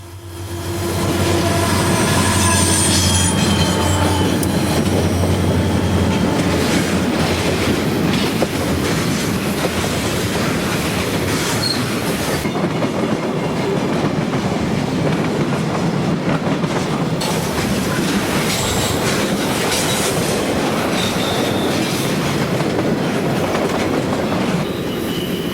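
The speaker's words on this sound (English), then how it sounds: "Northbound train Q572 is coming downgrade, but still has to restrict its speed for curves such as this one." A CSX freight train, northbound Q572, rolls downgrade through curves in 1995, producing a loud, continuous rumble of cars with rhythmic wheel clatter and occasional flange squeal, lasting the whole stretch.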